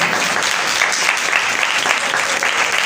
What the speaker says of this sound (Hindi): कवायद के बच्चों के लिए जोरदार तालियां हैं।